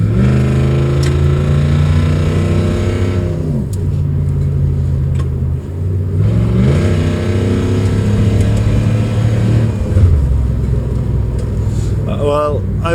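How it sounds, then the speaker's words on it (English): A car engine revs hard at full throttle while the transmission, treated with Rislone stop-slip, kicks down; loud rising engine tones step through several shifts, with drops and climbs in pitch, over about thirteen seconds. "I'm gonna kick down it, floor it in the bottom."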